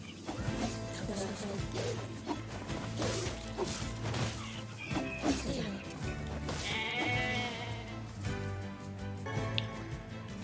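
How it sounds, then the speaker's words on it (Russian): Sheep in NieR Replicant bleating amid busy game sounds, with thuds and crashes of combat and music layered over the animal cries throughout. "Овцы."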